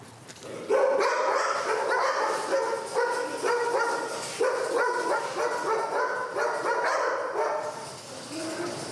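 Police kennel dogs, German shepherds and Belgian Malinois, barking loudly and repeatedly close by, overlapping barks with some yips and whimpers in a continuous chorus.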